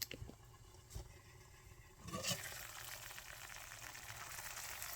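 Eggs frying in a pan, with a quiet sizzle that swells into a steady crackling hiss partway through, set against a few faint clicks and no voices.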